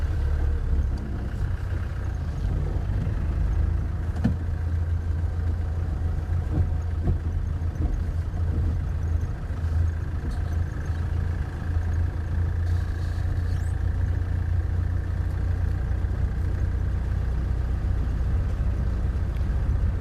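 A safari vehicle in the Sabi Sand drives along a fire break, its engine a steady, close, low rumble with faint rattles, continuous for the whole stretch.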